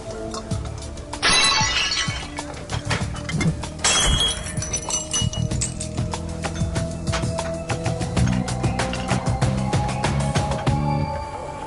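Dishes shatter twice in quick succession, loud crashes of breaking ceramic with ringing shards, followed by faint clinking and a busy background with light clatter and no speech.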